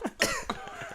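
A person coughs close by in a few short, sharp bursts, with a rough throat-clearing quality, all within under a second.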